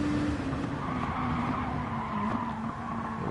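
Race car in a racing video game braking hard for turn one at Daytona's road course after a flat-out section in sixth gear, tires squealing in a sustained high skid over the steady engine drone, close and loud throughout.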